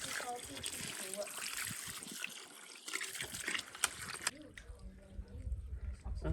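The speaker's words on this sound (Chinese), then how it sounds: "酸菜洗一下。" Tap water splashes and gushes steadily while homemade pickled cabbage (suan cai) is rinsed in a home kitchen, with people talking over the running water.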